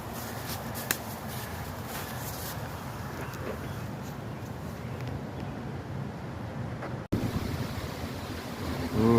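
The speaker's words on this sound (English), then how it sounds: "it's windy out here" Wind blowing outdoors along a clover-covered path near an old railroad spur bridge, a steady broadband rush and buffeting across the whole clip with a brief dropout near the end, no speech.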